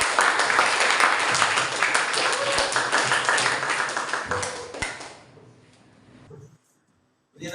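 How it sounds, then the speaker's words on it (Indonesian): Applause from a classroom full of students after a group presentation, a dense, loud burst of many hands clapping for about five seconds, then fading quickly to near silence. "Oke, beri tepuk tangan terlebih dahulu."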